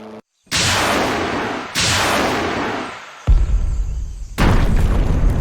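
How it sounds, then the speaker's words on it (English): Heavy weapons fire of 107mm rockets with 120mm and 81mm mortars comes as four loud, sustained roaring blasts, each starting abruptly and trailing into a long rumbling wash, separated by short breaks. "The 107mm rockets, 120mm mortars, and 81mm mortars are now fired at the Blue 4 C2 node and eastern screen positions."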